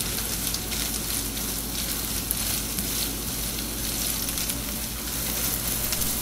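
Chorizo, onion and green onion tops fry in a pan over medium heat, giving a dense, loud, unbroken sizzle and crackle close up.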